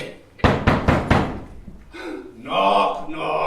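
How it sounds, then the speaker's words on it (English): Four loud, evenly spaced knocks on a wooden door at a castle gate, close and solid, followed by a voice speaking. "Knock, knock."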